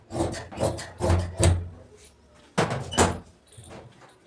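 Scissors cut through salwar cloth in close, rhythmic snipping strokes: a quick run of crisp rasping cuts, a short pause, then a few more.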